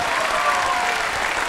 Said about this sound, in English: the thunderous applause of the crowd